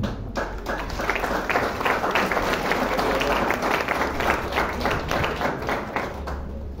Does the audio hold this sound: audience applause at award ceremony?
yes